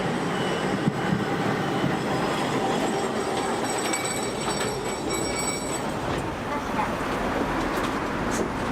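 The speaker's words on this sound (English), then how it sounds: "my tram is coming" A tram pulls in on a street in Nagasaki, its wheels and car body rumbling and squealing faintly on the rails at moderate distance amid city background noise.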